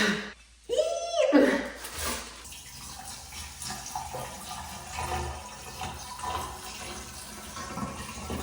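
Water drains noisily down a newly working sink in a trailer home build, a loud gurgling rush at first that settles into a steady trickle and bubbling.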